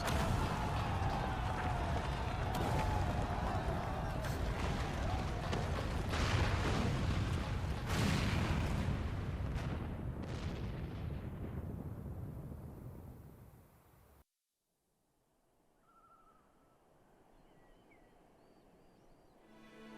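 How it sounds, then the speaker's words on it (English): A loud, sustained roaring blast from a cannon destroying a tower in the video game Final Fantasy XIV, with crackling bursts and rumbling debris, fading away into near silence. "It didn't collapse, it was fucking blown up."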